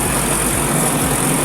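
Motor of a Eurotek twin tub washing machine's spin dryer running steadily after its timer is turned, a continuous close hum with low rumble and no speech.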